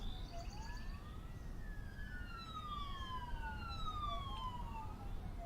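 Police car sirens wail in the closed alpha of the video game Keep the Peace, several overlapping rising and falling tones that sound somewhat distant over a low, steady rumble of traffic.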